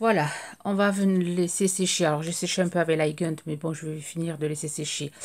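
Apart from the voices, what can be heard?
No everyday noise stands out behind the speech.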